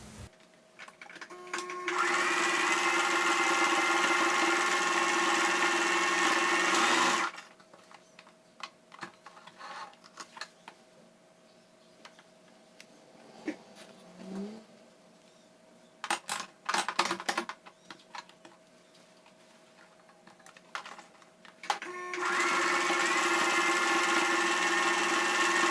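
Sewing machine stitching a miniskirt lining: long steady mechanical whirring runs at the start and again at the end, separated by a quieter stretch of fabric handling, clicks and small rustles.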